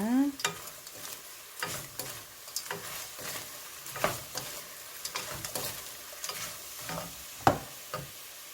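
Dried pollock skin being stir-fried in a pan over high heat: scattered scraping and tapping strokes of a utensil against the pan over a faint sizzle, fairly quiet and irregular, with no talking.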